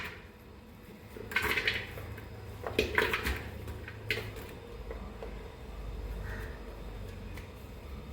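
A biriyani pot for Kollam-style chicken dum biriyani is set down with a few metallic clanks, then three large onions, sliced lengthwise, tumble in with soft rustling thuds, all fairly quiet against a low background hum.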